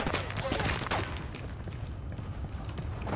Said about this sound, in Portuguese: Muito tiro agora.